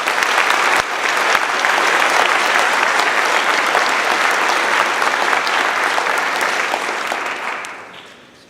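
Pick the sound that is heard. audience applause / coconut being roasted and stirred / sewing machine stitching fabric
audience applause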